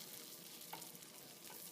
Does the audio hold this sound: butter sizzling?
yes